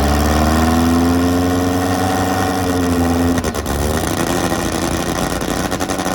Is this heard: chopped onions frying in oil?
no